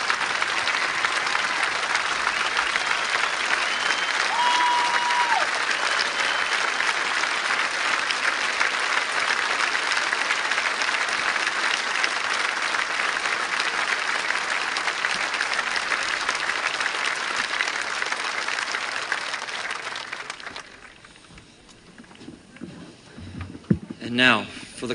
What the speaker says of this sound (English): thank you so much for your welcome and your applause here this morning.